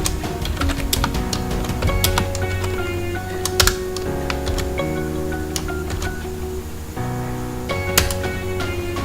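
Python code is typed on a computer keyboard, a quick irregular run of close key clicks with occasional louder taps and brief pauses.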